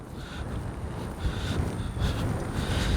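Gusty wind buffets the microphone in low rumbling bursts at an RC jet runway, steady and close, with no other clear sounds.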